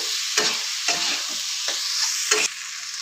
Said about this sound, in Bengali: পাস্তাগুলো দিয়ে একটু নাড়িয়ে চাড়িয়ে নিচ্ছি।